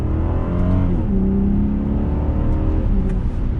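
A 2022 BMW 740i accelerating in sport mode, heard from inside as a steady, loud engine drone with rising and falling tones as it pulls through the gears, no talking.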